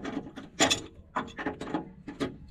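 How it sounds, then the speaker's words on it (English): A pipe wrench turning to loosen the oil filter on a Lexus GX460 during an oil change gives a series of close, irregular metallic clicks and grinding scrapes in short bursts of about half a second each. "I'm basically going to take the pipe wrench here and kind of lefty-loosey it"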